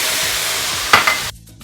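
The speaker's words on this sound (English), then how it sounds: "I'm going to pour in a little more vegetable broth into this." Vegetable broth splashes into a pan of simmering sweet potatoes and zucchini, setting off a loud steady sizzle with a brief burst of pouring, then the hiss drops away abruptly as the liquid settles.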